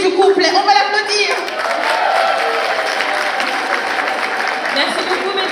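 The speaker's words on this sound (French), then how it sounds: "On va l'applaudir." An audience at a Paris business and leadership conference applauds a speaker, dense clapping mixed with cheers and whoops from a crowd, while voices talk over the ovation near its start.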